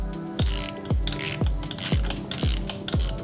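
Ratchet wrench driving a 10mm bolt into a car transmission during a rebuild: six sharp, evenly spaced clicking strokes, close and loud, with no talking.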